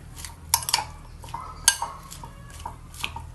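Mango salad being mixed in a bowl, with a few sharp clinks of utensil against the dish over soft stirring, close and fairly quiet.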